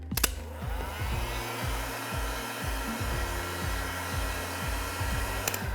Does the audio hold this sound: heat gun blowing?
yes